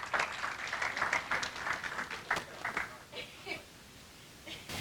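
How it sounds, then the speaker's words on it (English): A round of applause from a seminar audience, fairly quiet and thinning out into a few scattered claps toward the end. "So can we please welcome them with a round of applause?"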